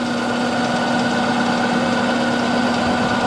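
A small metal lathe in a home workshop runs steadily with aluminum stock, giving a constant, fairly loud mechanical hum with a sustained motor whine and no pauses or talk.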